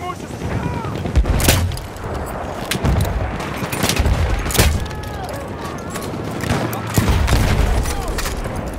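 Enemy machine-gun fire in a World War I shooter on the Volga river, with bursts and single heavy shots cracking loudly over a rumbling battlefield of explosions and engine noise.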